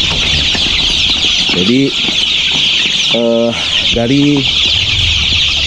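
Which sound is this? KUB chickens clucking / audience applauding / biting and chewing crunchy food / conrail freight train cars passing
KUB chickens clucking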